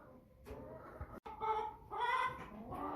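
Young American Bresse cockerels cluck and call inside a cage, a few short separate clucks early, then longer, louder warbling calls, close to the listener with no talk.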